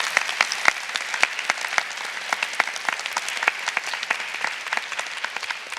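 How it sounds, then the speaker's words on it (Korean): An audience at a Korean lecture event applauds one another, producing a steady wash of clapping with distinct individual claps popping out, sustained for several seconds without speech. "진심으로 서로에게 박수 한번 주시죠"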